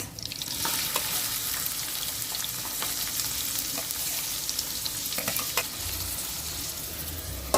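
Cumin seeds and chopped onions frying in hot oil, a dense close crackle and sizzle throughout with brisk stirring scrapes and occasional light taps of a utensil on the pan; no talking.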